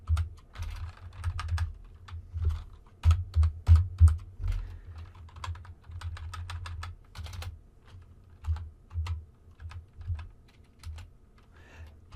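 Steady typing on a computer keyboard while writing HTML code, close and fairly quiet, with bursts of key clicks and brief pauses, no talk.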